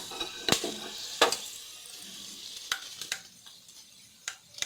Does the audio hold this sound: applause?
no